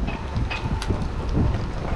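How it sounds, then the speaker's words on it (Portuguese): Strong wind gusting outdoors during a food delivery run in the United States, a rough low rumble buffeting a phone microphone with uneven surges and faint higher clatter, no speech. "Gente, tá ventando pra caramba."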